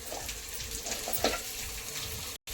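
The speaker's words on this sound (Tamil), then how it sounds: "அதனால தக்காளியும் போட்டு வணக்கிடணும்" Chopped tomatoes fry in hot oil for a chicken biryani gravy, giving a steady broadband sizzle with a brief stirring scrape partway through and a short gap near the end.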